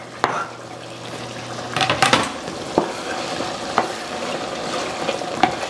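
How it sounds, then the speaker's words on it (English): A spoon stirs chunks of yam and plantain in a pot with a little liquid, scraping and sloshing with soft sizzling, and a few sharp knocks against the pot as it goes. "And stir it all up."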